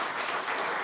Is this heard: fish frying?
no